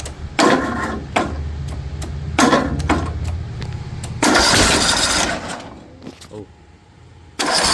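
A zero-turn mower with a rebuilt small engine cranks and sputters with several loud backfire bursts, then roars briefly before dying to a rough idle, with a person exclaiming near the end.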